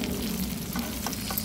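Dried galunggong fish sizzle and crackle steadily in hot oil in a pan on a portable outdoor stove, with a close, continuous frying hiss.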